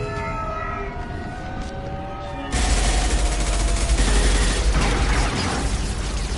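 A siren-like wail gives way to a sudden loud barrage of sustained gunfire in a Mass Effect firefight, the shooting continuing densely to the end.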